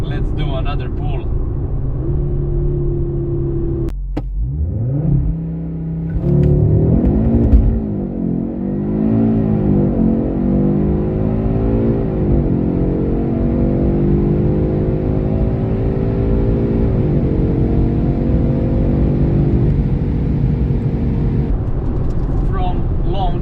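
A 2025 Audi RS3 8Y2 facelift with a Wagner Evo X intercooler and JB4 tune pulls hard under full throttle, its five-cylinder engine note rising steadily through the gears with brief shift breaks, loud and close, with some talk.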